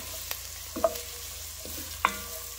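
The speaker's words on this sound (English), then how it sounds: "I just put my um, carrots and onions in the pot right here. I'm sweating these off" Carrots and onions sweating in a pot, a soft, faint sizzle underneath a few sharp clinks and taps of a utensil against the pot.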